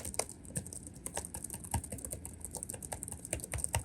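Steady, soft clicking of Lenovo LOQ 15IRX9 gaming laptop keys being typed in quick irregular bursts, close up and fairly quiet, with no voices.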